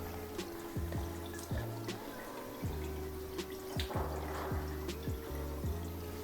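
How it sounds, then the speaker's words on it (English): Water is applied to hair during a grooming routine, heard as a steady close trickle and splashing with scattered drips, with no talking. "I'm going to apply water."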